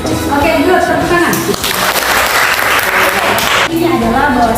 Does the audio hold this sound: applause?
yes